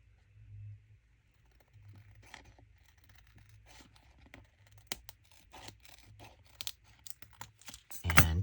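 Scissors snip through a thin acetate sheet in a run of close, crisp, rasping cuts that quicken toward the end, with no one talking over them.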